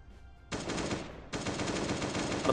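Automatic weapons fire in the zombie survival video game Last Day, two sustained bursts of rapid shots separated by a short pause, loud and close.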